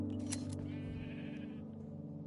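Sheep bleating inside a Minecraft world, a short wavering bleat standing out near the start over a steady low in-game background hum, close and moderately loud.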